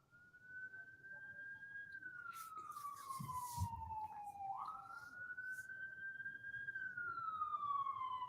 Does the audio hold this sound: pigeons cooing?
no